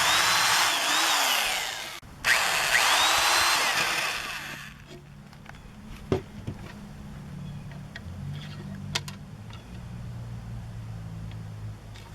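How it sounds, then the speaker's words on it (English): A power drill bores through an old crock pot disc in two loud, whining bursts, the first about two seconds and the second a bit longer, followed by quieter clicks and handling knocks of the workpiece. "We're gonna drill holes here, here, here, and here, and then put it right here."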